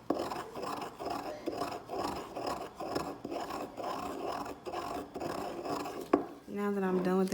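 Pigment ground by hand into acrylic paint gives a close, repeated rasping scrape in steady strokes, followed by a short knock and a faint voice at the end.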